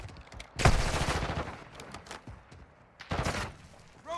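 Gunfire in Call of Duty Modern Warfare III: two loud bursts of rapid shots with short, sharp reports, separated by quieter battlefield ambience.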